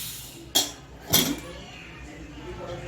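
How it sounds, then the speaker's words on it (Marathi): A pressure cooker lid is opened after several whistles while cooking a suran (elephant foot yam) curry, giving two sharp metallic clinks about half a second apart over a quiet kitchen background. "आणि आता मी हा कुकर उघड"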